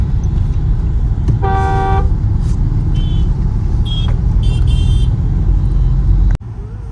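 Busy Delhi road traffic with a low engine rumble underneath and repeated car horn toots, one long honk followed by several short beeps, before the noise cuts off abruptly near the end.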